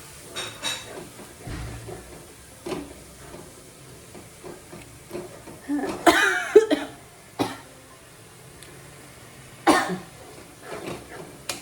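A person in a home kitchen coughs several times in short, scattered bursts while stirring a cutlet mixture, with quiet clinks of cookware and soft sizzling between coughs.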